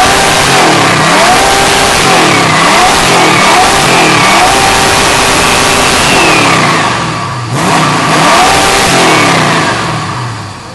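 A classic Dodge Challenger R/T with a 383 Magnum V8 revs hard in repeated loud surges while its rear wheels spin, heard up close with a brief dip before it climbs again.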